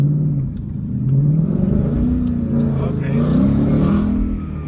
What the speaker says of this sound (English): That is the tires breaking loose.